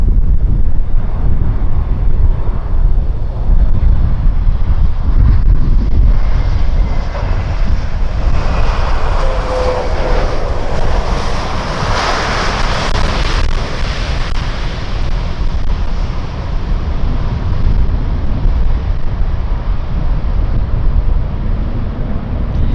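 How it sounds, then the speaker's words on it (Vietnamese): A China Southern Boeing 737 Max 8 from Guangzhou comes in to land at Tan Son Nhat airport in strong wind. A loud, continuous jet engine roar swells and fades beneath heavy wind buffeting on the microphone. "chiếc máy bay đang hạ cánh trong điều kiện thời tiết gió rất lớn"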